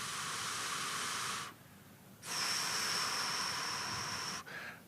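Two long, forceful exhalations hiss out in turn during a mindfulness breathing exercise, separated by a short quiet pause, close and loud, with a shorter breath starting at the end.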